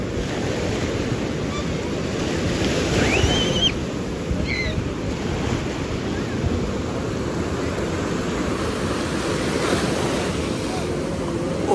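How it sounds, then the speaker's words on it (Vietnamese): Big sea waves break on Cam Binh beach in a steady, loud roar of surf, with wind buffeting the microphone throughout. "sóng to lắm."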